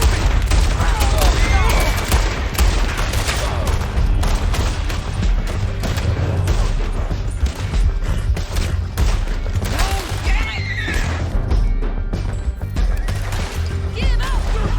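Rapid gunfire in a Red Dead Redemption 2 canyon shootout, with dense volleys of loud overlapping shots and booms crackling continuously, and voices shouting now and then beneath the barrage.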